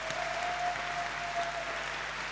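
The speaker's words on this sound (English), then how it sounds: "The crowd breaking out in applause, standing up to show their respect" A wrestling crowd gives a standing ovation to a wrestler, distant, soft, continuous clapping from a large audience with a faint steady tone beneath.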